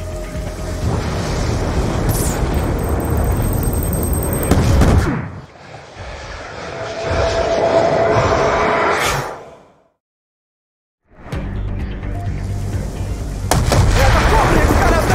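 Loud booming blasts and rumbling roars from Call of Duty Black Ops 2, broken by a quieter stretch and a brief silence before the explosions resume with voices mixed in.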